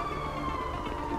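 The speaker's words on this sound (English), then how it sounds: "I hear a police car." A police siren in Grand Theft Auto V wails steadily at a constant pitch, fairly loud over a busy background hum.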